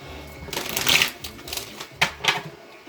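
Tarot cards being shuffled by hand during a reading, with several crisp riffling bursts close to the microphone separated by short pauses.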